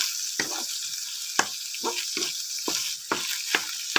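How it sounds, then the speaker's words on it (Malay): Chicken, lemongrass and rice sizzle in a hot pan for Malaysian-style Adabi fried rice, with a constant frying hiss and repeated scraping bursts of a spatula stirring the ingredients at a roughly even pace. "Goreng-goreng sampai nampak ayam tuh nak masak"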